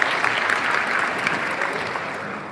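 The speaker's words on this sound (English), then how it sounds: "Please give them a round of applause." An audience applauding speakers at a summit, dense steady clapping that fills the room and tapers slightly toward the end.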